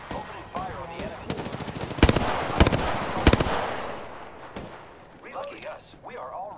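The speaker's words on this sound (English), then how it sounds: "Opening fire on the enemy." Video game machine gun fire in a ranked match, several sharp loud bursts in the middle over a busy background of game effects and faint voices.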